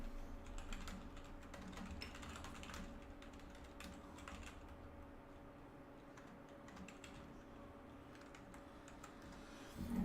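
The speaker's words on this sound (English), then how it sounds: "Stop headbutting the keyboard." Faint computer keyboard keys tapped in quick irregular runs, with the typing continuing steadily and softly in the background and no talking.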